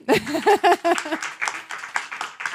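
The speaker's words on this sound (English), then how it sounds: "You can give them a round of applause too." An audience claps at a conference session at the Qatar Pavilion, a short burst of scattered, moderately loud clapping that follows a brief voice and thins out over a couple of seconds.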